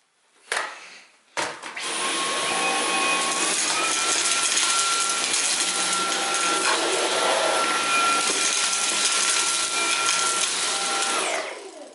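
A Dyson V11 cordless vacuum on its Auto Eco setting starts up after a couple of clicks and then runs steadily with a high whine over carpet for about ten seconds before spinning down.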